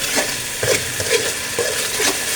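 A turmeric, chili and salt spice paste fries in oil in a pan for a mustard fish curry, sizzling steadily while being stirred, with soft repeated scraping strokes close by and no speech.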